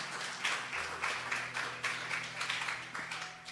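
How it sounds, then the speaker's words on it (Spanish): A church congregation in Bolivia applauds together, a steady wash of clapping with rhythmic surges, held under a low sustained organ or keyboard tone. "¿Por qué no le dan un fuerte aplauso al Señor?"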